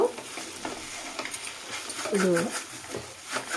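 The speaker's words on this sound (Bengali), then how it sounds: "এবার আমার কিছু সময়টা ফ্রাই হয়ে এসছে এটাকে আবারও নাড়িয়ে নাড়িয়ে নেব" Dry vermicelli (shemai) fries in a pan while being stirred, giving a continuous close sizzle with repeated scrapes and clinks of the utensil, and a voice talks partway through.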